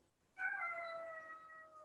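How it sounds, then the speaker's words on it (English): A single drawn-out cat meow, close and fairly soft, rising sharply then holding a long wavering tone that fades slowly, alone in a quiet room. "talk to my cat"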